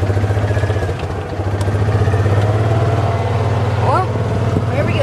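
A Kawasaki Mule 610 utility vehicle's small engine runs with a steady, rhythmic low putter while driving off-road, close and loud, with faint creaks and bumps over rough ground and someone talking over it.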